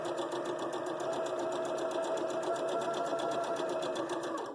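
A sewing machine stitches quilt fabric with a quarter inch foot, running steadily and rapidly close up in an even mechanical chatter for several seconds, with no voices.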